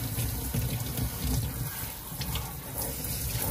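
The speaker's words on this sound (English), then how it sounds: "You want to just give it a really good rinse." Tap water runs steadily into a sink while a wig is rinsed under it, a continuous moderate splashing hiss close by with no one speaking.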